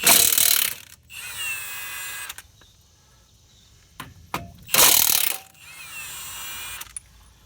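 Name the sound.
Milwaukee impact wrench on lug nuts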